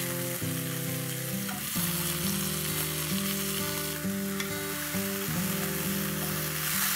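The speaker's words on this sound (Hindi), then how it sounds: "इसे थोड़ी देर तक फ्राई कर लेते हैं।" Soaked chana and urad dal with curry leaves fry in a pan, making a constant dense sizzle and hiss, with a steady musical tone running underneath throughout.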